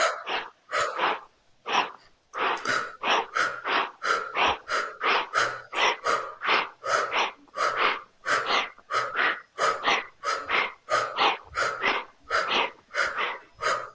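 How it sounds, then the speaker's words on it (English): Slow, deep belly breathing during a calming guided exercise, heard as a long run of close, audible breaths in a steady rhythm with no talking. "Remember to breathe from the belly."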